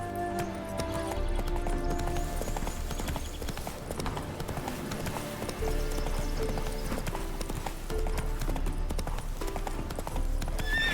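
Roach the horse galloping in The Witcher 3 video game, rapid continuous hoofbeats drumming steadily over game music and ambience, loud and close throughout.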